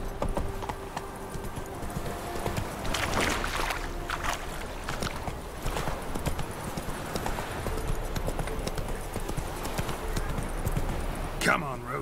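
Roach, Geralt's horse in The Witcher 3, trots along with a steady clip-clop of hooves at moderate distance, running beneath ongoing talk and game ambience.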